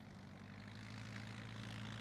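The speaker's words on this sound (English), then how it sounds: "Well, I hope this plane lands safely." Propeller airplane engine inside the video game Bayonetta 2, a steady low droning hum heard faintly and continuously with no voices.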